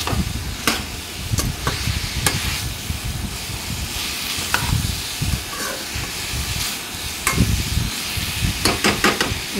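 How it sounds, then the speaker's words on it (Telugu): Bottle gourd and drumstick curry hisses and sizzles steadily in a pan while a spoon stirs it, with scattered scraping clicks over the simmer. "మనం కడిగి పెట్టుకున్న ములక్కాయలను కూడా వేసుకొని మొత్తం కలిసే విధంగా ఈ విధంగా కలిపేసుకోవాలండి"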